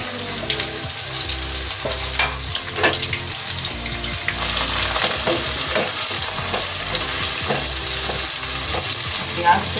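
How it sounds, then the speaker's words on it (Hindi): Onions hit hot oil in a pan and fry with a loud, dense sizzle that grows stronger midway, with scattered stirring clatter and no talking. "अब इसमें हम प्याज डालेंगे।"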